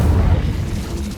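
An Incendio fire spell cast in the video game Hogwarts Legacy, a loud, low whooshing boom that starts abruptly and fades over about a second.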